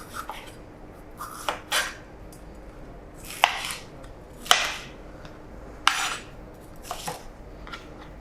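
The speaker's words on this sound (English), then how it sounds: "So I'm just going to chop the pepper first, obviously discard the seeds." A kitchen knife chops a pepper on a cutting board, giving a series of sharp, irregular cuts that ring out clearly in a quiet room.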